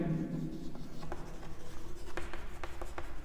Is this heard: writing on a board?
yes